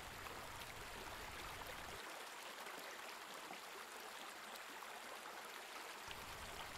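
Steady rushing river water flows on without a break, a dense, even wash of sound with no voices.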